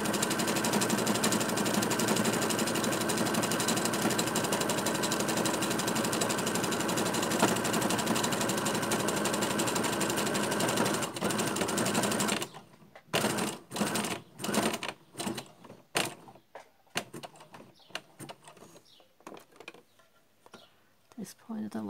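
A sewing machine stitches through a felt mask, running in a steady, dense whir for about twelve seconds before breaking into a series of short stop-start bursts.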